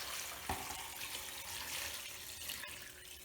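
Bone broth poured into a pot of vegetables and meat, a steady soft liquid splash with one small knock near the start, close and quiet throughout.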